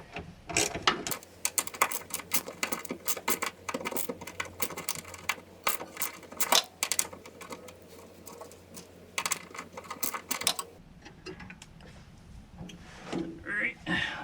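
A screwdriver or ratchet takes out the ground screw on a GM A-Body fuel sending unit. Rapid close clicking and ratcheting runs for about ten seconds and is followed by quieter handling noises, with speech at times.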